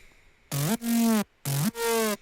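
Synth lead built from a saw wave layered with white noise, effects switched off, plays two short phrases, each a low note sliding up into a longer sustained tone, bright and buzzy with gaps of silence between.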